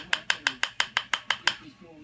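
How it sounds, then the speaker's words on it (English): A poly hammer striking a smooth beveler on leather during tooling, nine sharp, evenly spaced taps in quick succession, close and crisp, then a brief pause. "it's the sound of this poly hammer and tooling"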